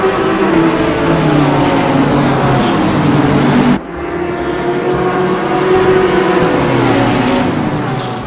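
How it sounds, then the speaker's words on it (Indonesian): A continuous roaring toy race car engine sound, loud and close, holding a steady drone with a brief dip midway before resuming. "Mobil balap."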